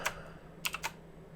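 A computer keyboard shortcut is tapped out as a few quick, crisp key clicks, one isolated press followed by a tight cluster of three, close and fairly quiet over a faint background hum.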